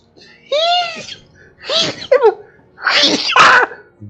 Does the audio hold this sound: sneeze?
yes